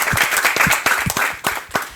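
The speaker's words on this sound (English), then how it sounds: "Let's clap our hands for her." Hands clap together from an audience welcoming a lady guest at a school debating event, brisk uneven claps packed close and moderately loud, with no voices over them.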